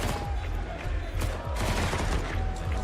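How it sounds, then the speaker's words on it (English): Desert Eagle and other gunfire in a Counter-Strike match at a 2023 Major grand final, rapid overlapping shots in a dense, loud fusillade with continuous game noise throughout. "Lots of shots coming through. But that Deagle killing 2 more."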